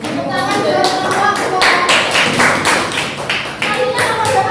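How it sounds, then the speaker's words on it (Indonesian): Students in a biology classroom clap for a presenting group, a close, uneven patter of hands that rises into a burst of louder claps, with a few thumps and faint chatter mixed in. "Tepuk tangan buat kelompok"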